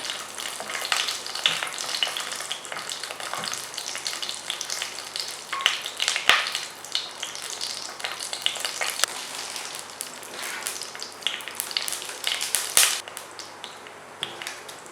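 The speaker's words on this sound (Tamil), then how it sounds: "இப்போ இதில் இந்த ஹோல் ஸ்பைஸ் பேக்கெட் போடுறேன். இதை கொஞ்ச நேரம் சாட்டே பண்ணுறேன்." A steady, close sizzle and crackle of whole spices sautéing in hot oil in a pan for Chettinad chicken biryani, with scattered pops and stirring scrapes throughout.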